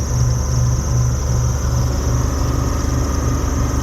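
A vintage RV engine, just started on a winter day, is held at about 2,800 RPM, producing a steady, loud, continuous drone with a constant pitch and no talking.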